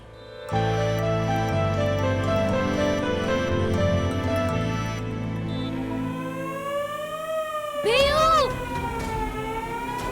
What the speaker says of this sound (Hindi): सायरन की आवाज, मतलब भूचाल आने की चेतावनी।